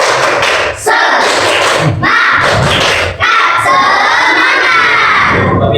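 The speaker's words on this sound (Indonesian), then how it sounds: "Tepuk semangat dulu yuk. Tepuk semangat." A class of children in an Islamic religious education lesson claps a rhythmic spirit clap together and cheers, loud and close, with sharp group claps punctuating the shouting.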